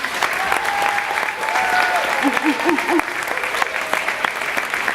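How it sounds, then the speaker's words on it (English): Sustained applause from a school concert audience for a fifth-grade band and choir, a dense wash of clapping that continues steadily throughout, with brief tonal sounds in the background. "Let's give another round of applause for the fifth graders."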